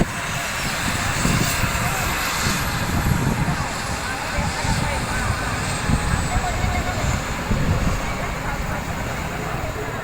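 A loud, steady helicopter roar drones on with a rough, churning rumble throughout, and voices are faintly mixed in.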